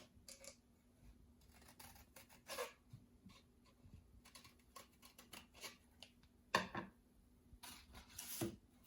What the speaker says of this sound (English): And then I'm going to cut maybe about an inch down.